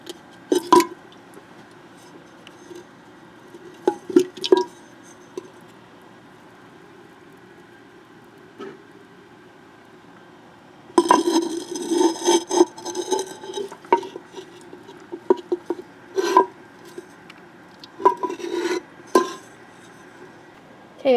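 Heavy weights set into a crock of fermenting cucumbers, giving scattered knocks and clunks of ceramic or glass with bursts of scraping and shuffling between quiet stretches.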